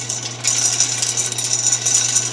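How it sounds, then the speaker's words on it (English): The auger motor of a 1959 Axeman Anderson 130M coal stoker runs with a steady, close mechanical whine and a constant low hum, starting with a brief click and continuing evenly until the end. "Fan's off, auger's running."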